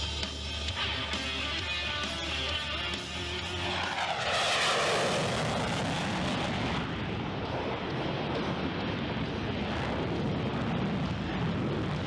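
A Super Hornet jet roars through a 7.5G afterburning turn at an airshow, a loud, rumbling engine blast that swells and sweeps, then settles into a broad, harsh roar as it pulls away vertically.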